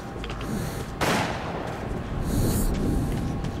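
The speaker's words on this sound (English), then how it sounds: "Heard a gunshot." Gunfire in the post-apocalyptic shooter game Metro 2033 Redux: a sharp, loud report cuts in abruptly over a rumbling ambient backdrop, followed by further muffled booms.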